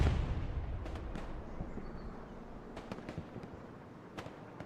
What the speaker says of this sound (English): Flare does go up for Legion.